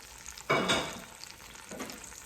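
Beef juices and fat hitting a hot pot with a sharp sizzle, two bursts of frying hiss, the first loud and close, the second softer, with quiet crackle in between.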